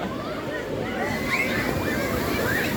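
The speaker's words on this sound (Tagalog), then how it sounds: "We're here in a water park. It's electric wave." Water churns and sloshes in a water park wave pool, a loud continuous wash of splashing with crowd voices and excited shouts mixed in.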